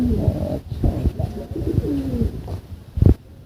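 Domestic pigeons coo nearby in a loud, throaty, rolling series of repeated calls, with one brief louder burst near the end.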